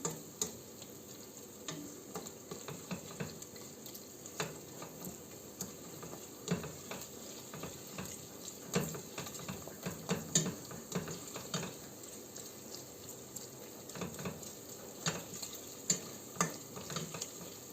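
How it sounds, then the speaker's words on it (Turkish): Tomatoes sizzle and crackle in a frying pan while a utensil stirs and scrapes with irregular clicks, steady and close, no talking. "Şimdi domatesimizi ilave ediyorum. domatesimizi de bu şekilde güzelce karıştıraraktan"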